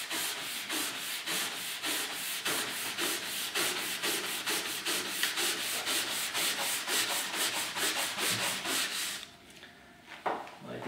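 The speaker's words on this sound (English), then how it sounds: "we want to take our stiff nylon brush, scrub that, and get the skis to polish up." A stiff nylon brush scrubbing a waxed ski base, fast, even back-and-forth strokes in a steady close rhythm, then a short pause and a few slower strokes at the end.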